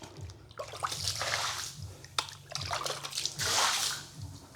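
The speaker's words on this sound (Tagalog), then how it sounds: "Tubig po yung kailangan natin dito para yung alikabok" Water is poured or sprayed to settle dust on dry ground, a steady splashing, sloshing rush with brief surges and drips, close and fairly quiet, with no voices heard.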